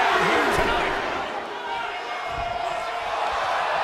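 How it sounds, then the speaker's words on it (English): A raucous arena crowd in the WWE 2K22 wrestling game keeps up a dense, constant roar, with someone commentator talking over it. "What a raucous crowd here tonight."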